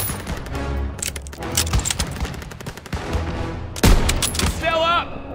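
Gunfire in Call of Duty: WWII, with bursts of rifle and machine-gun shots and a sharp loud crack late on, mixed under shouting soldiers and battle chatter.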